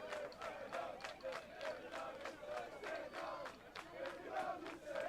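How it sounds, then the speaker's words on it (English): Soccer fans cheer and chant in a steady rhythm with cowbells at an NJCAA Region 8 women's soccer championship, where a loud, continuous crowd pulses with regular beats throughout. "Crowd over here is cheering. They're loud."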